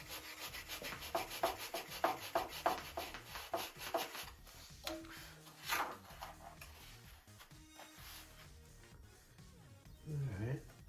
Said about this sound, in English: I'm kind of sanding it at an angle too.